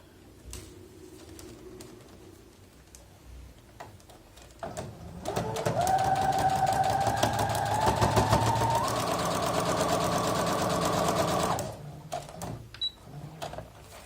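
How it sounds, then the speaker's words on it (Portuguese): A sewing machine stitches a seam on fabric for a foundation-pieced star, running as a steady close mechanical whir for several seconds between quieter handling sounds, with faint birds cooing in the background. "vou passar uma costura aqui na linha do 3"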